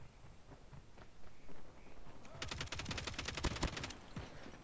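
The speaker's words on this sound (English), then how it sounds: "I'm being shot at" Call of Duty Mobile gunfire: a rapid burst of automatic shots fires about halfway through and lasts over a second, loud against a background of in-game ambience.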